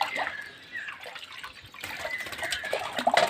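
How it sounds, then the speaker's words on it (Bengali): Water being swirled gently in a container set out for pigeons to drink, soft sloshing and trickling close by, rising and falling in waves. "তো জলটা সবসময় এরকম করে একটুখানি হালকা করে ঘুরিয়ে দিচ্ছি"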